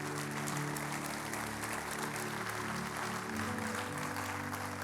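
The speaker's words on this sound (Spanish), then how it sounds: "Dale un fuerte aplauso a Dios." A church congregation applauds in a steady, continuous wash of clapping, fairly faint, over a sustained background of instrumental music.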